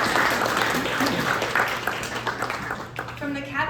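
A crowd bursts into dense applause that gradually thins out, with a voice speaking briefly as the clapping fades.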